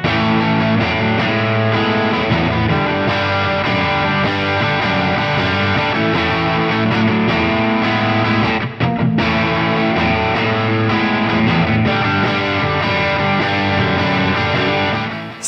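Heavily distorted electric guitar through a ROSS Distortion 2023 pedal plays a sustained, dense riff throughout with only a brief break, loud and saturated.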